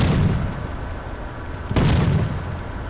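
Gunfire and artillery from the tactical war game Combat Mission Black Sea: a dense, rumbling battle backdrop with a sharp burst near the middle, alone without talk.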